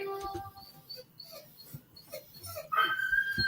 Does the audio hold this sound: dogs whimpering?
yes